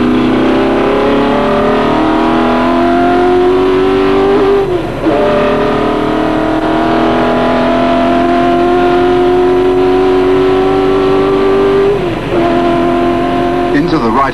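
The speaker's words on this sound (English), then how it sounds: "we travel at just on race speed in Peter Sadler's GT40" Ford GT40 race car at race speed around the Le Mans circuit, its engine droning loud and steady with rising pitch through the gears and brief dips at gear changes, continuous throughout from onboard.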